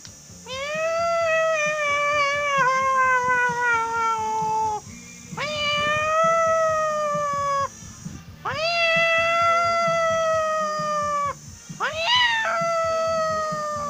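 Someone imitates a cat fight with drawn-out, rising and falling yowls, four loud wails in a row, close to the listener with short gaps between.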